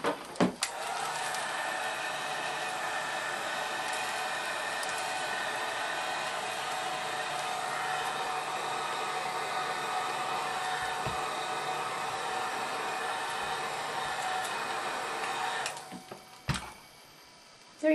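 A heat gun shrinks plastic shrinkwrap snugly around a paper-labeled bar of soap, a steady loud blowing hiss that runs for about sixteen seconds before cutting off with a few small knocks.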